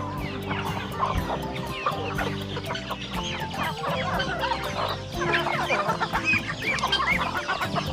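Several native chickens cluck continuously in a busy farm barnyard chorus in the Philippines, close and fairly loud, with overlapping calls and no talking.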